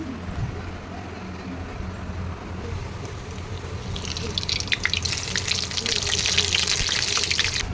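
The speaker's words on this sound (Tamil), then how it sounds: "குழம்பு நல்லா கொதிச்சிருச்சு" Mutton kola urundai curry boils in a clay pot, a soft, steady bubbling that grows louder and busier over the second half.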